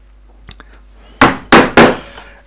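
A mallet strikes a straight chisel three times while setting in the marked edge of a carved wooden shirt cuff, giving loud, sharp knocks in quick succession after a few faint taps.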